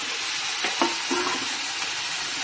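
Crab pieces frying and stirring in a hot pan, a steady sizzle with a few scraping clinks, no talking.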